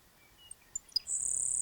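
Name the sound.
grasshopper sparrow song played from phone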